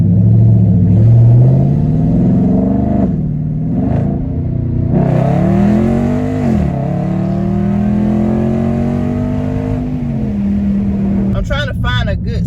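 A loud straight-piped 2021 Dodge Charger Scat Pack exhaust roars as the engine accelerates on a road, the rumbling tone climbing through gears with shifts between pulls, close and dominant throughout.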